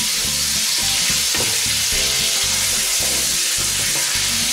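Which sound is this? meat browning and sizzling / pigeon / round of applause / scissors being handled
meat browning and sizzling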